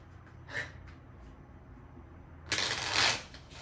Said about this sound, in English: Every time I shuffle, I look at the bottom of the deck